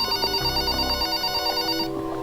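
A telephone rings in a horror film, a steady electronic ringing tone with layered high harmonics repeating for about two seconds, loud and close with no talk over it, cutting off sharply near the end.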